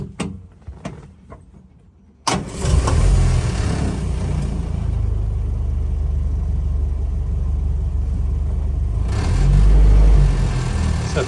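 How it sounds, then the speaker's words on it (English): A 1962 Land Rover Series IIa 88-inch with a 2.25 petrol engine sits quiet, then cranks over with a sudden start and settles into a steady, rumbling idle that swells briefly near the end. "quick video of start up and idling on this little 2A"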